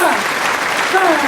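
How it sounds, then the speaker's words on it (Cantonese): Group of seniors clapping hands together at a fellowship activity, a brief burst of dense applause with voices talking and calling over it. "我哋不如拍手掌咯。"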